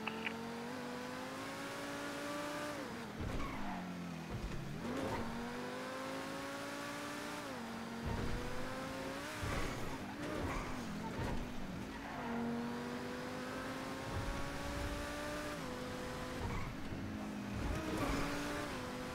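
Stock car racing engine in a video game, roaring steadily and close with repeated rising revs between gear shifts, tires squealing now and then, no voices.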